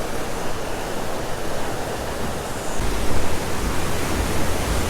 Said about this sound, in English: you can see the rapids are a lot better in this little section here